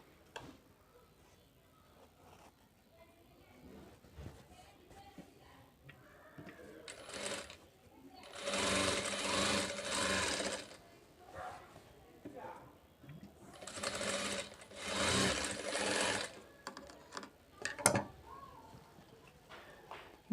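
A sewing machine stitching the front part of a blouse runs in two long, loud whirring bursts, with a short burst near the end, close by. Quiet handling sounds fill the gaps and someone talks between the runs.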